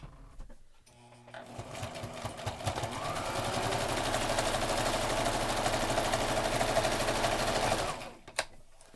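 A sewing machine stitches down a fabric mask cover in a rapid, steady mechanical chatter that builds after a brief start and runs for several seconds before stopping, followed by a click.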